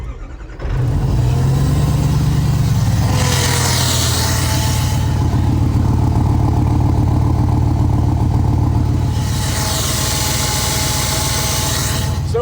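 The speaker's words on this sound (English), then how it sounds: "behind me I hear engine, and in front of me I hear supercharger whine" A supercharged engine cranks and catches, then runs loud and close with a deep rumble and a rising whine that swells twice.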